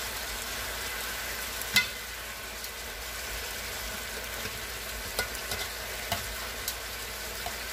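Chicken sears in an old, lopsided, bubbled-up pan with a steady, close hiss and crackle, broken by a few sharp pops and clicks along the way.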